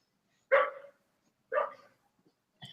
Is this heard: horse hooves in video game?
no